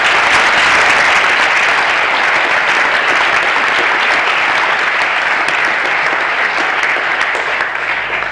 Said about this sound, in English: please, all of you, give a round of applause to everyone who makes this place happen